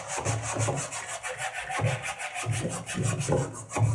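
A sanding block is rubbed by hand across a wooden front door in repeated back-and-forth strokes, a close, rhythmic scratchy rasp with short pauses between strokes.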